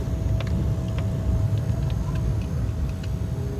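A taxi car pulling up in busy city traffic, its engine a steady low rumble close by, with faint passing vehicle noise around it and no talk.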